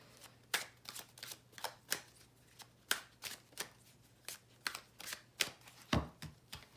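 Tarot deck being shuffled by hand, a series of crisp, close riffling bursts spaced through the clip, quiet and alone with no talking.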